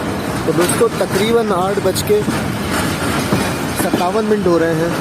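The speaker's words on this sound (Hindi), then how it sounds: "8:47 पर हमारी ट्रेन पहुंच रही है कोठी जंक्शन रेलवे स्टेशन पर" The Zikriya Express rolls into Kotri Junction with a steady rumble and clatter of wagons, partly buried under someone talking close to the microphone.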